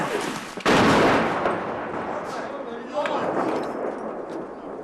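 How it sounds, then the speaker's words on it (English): A Russian artillery shell lands near Ukrainian homes with a sudden loud, sharp blast, followed by a long rumbling echo and a fainter second distant impact a few seconds later. "The shells start landing closer as the Russians adjust their aim."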